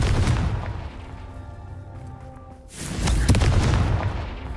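A Confringo spell explosion in Hogwarts Legacy: a loud, broad blast near the start, then a second heavy boom about three seconds in, with rumbling game sound between them and no voices.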